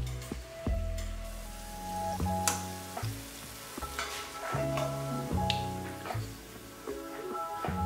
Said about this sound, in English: Add the onions to the cold oil and turn up the heat.